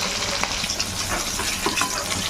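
Hilsa fish frying in hot oil, a dense, even hiss and crackle that holds steady and close for the whole stretch, with a few faint clicks.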